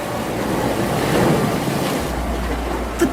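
Sea waves rolling back over the Red Sea, a broad continuous wash of surf with a windy, rushing texture, steady and fairly loud throughout, ending with a deeper low rumble and a few splashy bursts.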